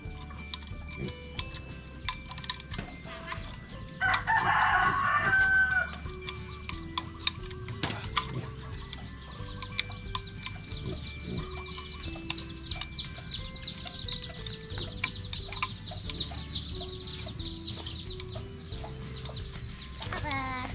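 Backyard chickens at a Filipino home clucking softly throughout, with a brief louder squawk near the start and fainter fowl calls later over a steady background hum, while people chat quietly.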